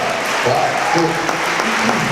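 Audience at a marketing conference gives a round of applause, a continuous dense clapping wash throughout with faint voices murmuring underneath.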